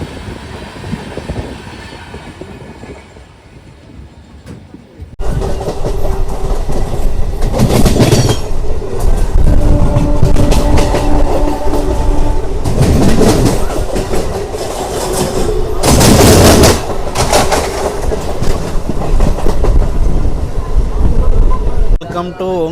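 A MEMU express train on the Gudur Junction to Vijayawada line, approaching Ongole, rumbles loudly on its rails with steady clickety-clack and brief wheel squeals, quieter for the first few seconds before the full roar sets in.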